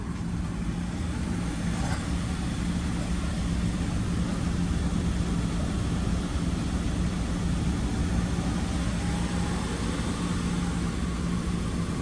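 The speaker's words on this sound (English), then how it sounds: "I'll go ahead and hold up the RPM to like 2000." An Audi A8 engine held at about 2000 RPM during an overheating check for a hidden coolant leak, a loud, steady, unbroken drone and hum heard up close throughout, with no talk.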